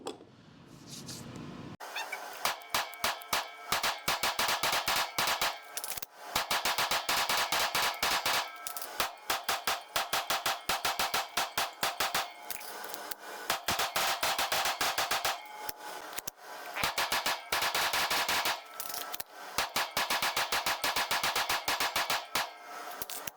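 A PSA Dagger full-size pistol fires rapid strings of sharp, loud gunshots in the dark during a 1,000-round test, cracking in dense bursts with short pauses between them.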